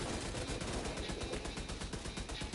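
Sustained automatic turret gunfire in The Division 2, a continuous rattling stream of shots at a steady rapid rate, dense and loud throughout with no talking.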